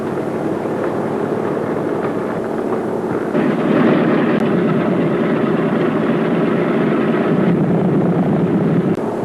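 B-17 bomber engines run with a dense, steady low roar that swells louder partway through, close and continuous, with no talk.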